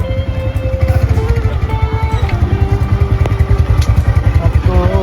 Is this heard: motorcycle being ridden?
yes